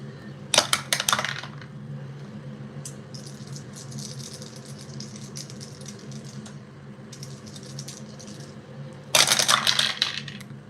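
Dice rattling and tumbling in a Strat-O-Matic 1968 baseball tabletop replay, with two sharp clattering bursts at the start and end and lighter clicking between, close up over a steady low background hum.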